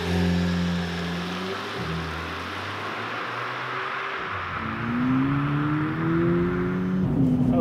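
VW Polo GTI accelerating on the road, its engine hum rising in pitch through the gears and dropping briefly at each shift, heard from inside the car over a steady background roar.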